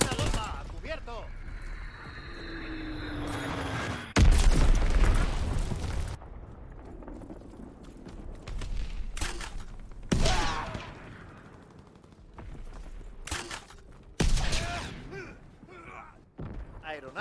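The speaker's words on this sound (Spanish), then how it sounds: "Han lanzado una bomba, cubierto." Bombs explode in a Call of Duty WWII multiplayer match, with several loud, sharp blasts bursting at irregular intervals and leaving rumbling tails, plus scattered gunfire and game voices in between.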